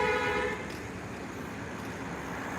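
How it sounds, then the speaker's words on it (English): A vehicle horn honks outside in a brief tonal burst at the start, then fades into a steady wash of distant road and traffic noise. "What's he honking at?"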